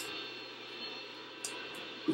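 Harrier jet called in during Modern Warfare 2 on Wasteland: a brief, fairly faint steady jet engine whine and roar with a couple of small sharp bursts near the end.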